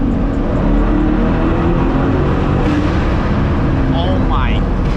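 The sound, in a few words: straight-piped C8 Corvette downshifting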